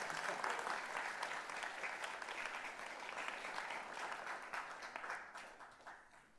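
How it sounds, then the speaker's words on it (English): A church congregation claps in steady, continuous applause, fairly distant and soft, with a faint murmur of voices mixed in as it gradually fades. "Let's give them a round of applause, shall we?"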